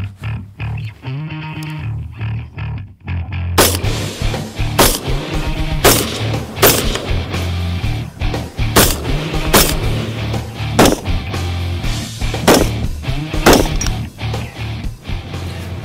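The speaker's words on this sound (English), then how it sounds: "This is my first shot with the Axelson Tactical." An Axelson Tactical 5.56 rifle fires outdoors in a run of loud, sharp gunshots at irregular intervals, roughly a dozen reports over steady background noise with no talking.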